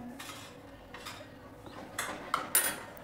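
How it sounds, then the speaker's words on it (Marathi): Thick homemade amla crush scooped from a pan into a vessel, with a few soft scraping and clinking spoon-on-metal sounds, growing slightly louder near the end, no talking. "आता मी एका भांड्यात काढून घेते"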